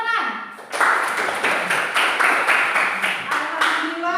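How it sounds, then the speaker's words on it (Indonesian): Classroom students clapping hands together in a lesson, several bursts of rhythmic clapping after a short spoken word at the start, fairly close and loud. "Iya, tepuk tangan."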